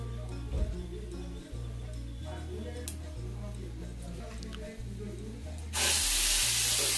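Panch phoron spices hit hot oil in a wok and burst into a loud, bright sizzle during the last second, after a stretch of quieter kitchen sound with a steady background tone and some voice.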